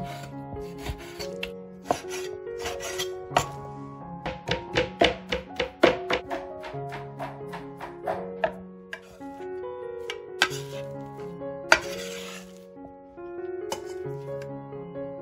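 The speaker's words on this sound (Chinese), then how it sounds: "五花肉揭去皮之后切小块，" A cleaver chops skinned pork belly into mince on a board, loud rapid thunks coming in bursts of quick repeated strikes with brief pauses, close and alone with no talk.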